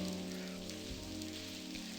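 Steady rain patters on surfaces in the point-and-click adventure game The Blackwell Convergence, a soft continuous hiss mixed with low humming tones and background music, with no talking.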